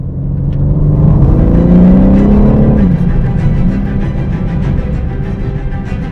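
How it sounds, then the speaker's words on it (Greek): A BMW M3 Competition drives on an empty mountain road, its engine droning loud and close as it revs up, then settling into a steady rumble with tyre and road roar. "Ακούς μέσα μπόλικη βαβούρα και τα λάστιχα στέλνουν πετραδάκια στα μασβιέ"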